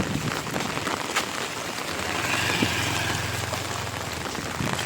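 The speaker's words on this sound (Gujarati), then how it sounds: "વરસાદ ભૂકા કાઢી રહ્યો છે ભાવનગરમાં" Heavy rain pours down in Bhavnagar, a dense, steady hiss of drops drumming on surfaces, with a low rumble underneath and no pauses.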